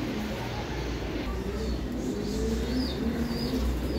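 Giribaz high-flying racing pigeons coo in soft, repeated rising notes over a low background rumble, with a few faint chirps mixed in.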